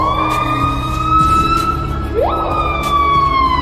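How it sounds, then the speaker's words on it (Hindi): Piha bird call played in slow motion so it resembles an emergency vehicle siren: a loud, continuous rising and falling wail with a sharp pitch jump midway. "इसकी आवाज को स्लो मोशन करने पर ऐसा लगेगा जैसे कोई एम्बुलेंस या पुलिस"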